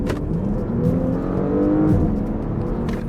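Porsche Panamera 4 engine revving hard under full acceleration, a loud, steady, close roar that climbs in pitch and briefly eases before pulling again.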